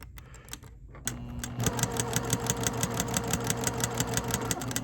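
A Juki TL sewing machine runs close by with a rapid, regular mechanical ticking and knocking as the hook basket hits the positioner finger side to side, a steady clatter over the motor's hum.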